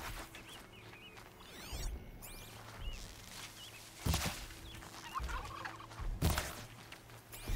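Geese in the Horizon Zero Dawn video game honk and gabble in short repeated calls, several overlapping, with sharp bursts at intervals over a quiet game background.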